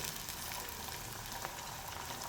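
Grated coconut, crushed garlic, tomato and chopped chillies sautéing in a pan for stuffed karela masala, a steady soft sizzle and frying crackle throughout with no voices.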